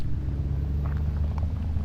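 A Xiaomi SU7 Ultra electric car plays a simulated V8 exhaust sound while reversing, giving a steady, close low-pitched rumble that holds evenly throughout with no talking.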